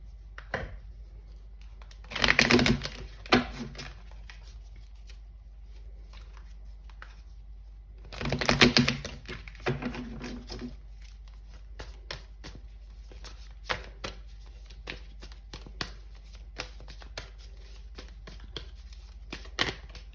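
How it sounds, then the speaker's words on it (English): Tarot cards being shuffled by hand, with two dense bursts of riffling clatter followed by scattered soft taps and slides, close and fairly quiet against a low steady hum. "I'm just gonna continue shuffling"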